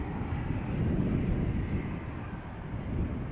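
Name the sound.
Embraer E195 KLM jet taxiing at Schiphol airport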